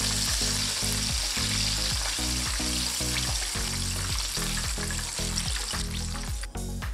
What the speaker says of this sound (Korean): 한김 식힌 후에 한번 더 튀겨줄 겁니다.